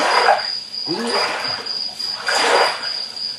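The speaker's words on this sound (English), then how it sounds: "It's crickets over there." Crickets chirp steadily in a high, continuous trill, with a few other faint noises in between.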